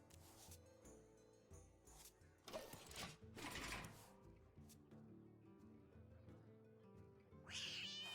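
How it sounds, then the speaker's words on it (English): A cat meows faintly in Hearthstone, set over a quiet bed of mechanical whirring and clicking, with a short, higher mewing cry near the end. "Yeah, kitty cat."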